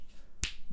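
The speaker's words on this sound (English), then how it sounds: "Check 1, 2, clap, snap." A single sharp finger snap, close and loud, standing alone in an otherwise quiet room.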